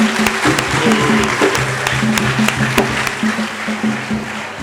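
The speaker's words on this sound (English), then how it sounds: "Clap for him, clap for him, clap for him." An audience at a school homecoming career guidance event claps in a loud, continuous wash of applause, with voices and low tones mixed underneath.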